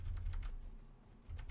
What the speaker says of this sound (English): I hope my keyboard isn't loud. Is this loud?